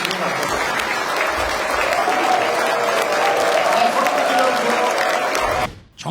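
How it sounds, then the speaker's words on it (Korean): Audience applause at an economic-community New Year greeting event attended by the South Korean president, a steady sustained clapping from a large crowd that fills the space, then fades abruptly near the end. "환영의 박수를 한번 크게 한번 쳐주시면 어떨까요?"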